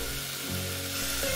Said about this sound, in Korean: 채썬 파를 넣고 파기름을 내줄게요.